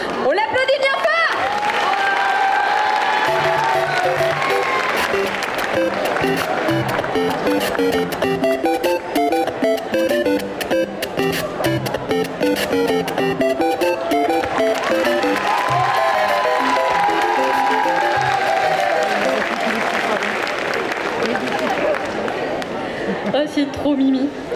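Spectators at a cosplay parade at a Japan and manga festival in Quimper applaud and cheer a Mario cosplayer, the crowd noise running loud and continuous under music with clear melodic lines throughout.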